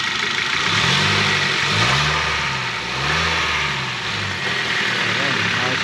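A 2011 Hyundai H-1 van engine running at idle speed with a steady mid-low hum and slight rises, close up, under a man's speech.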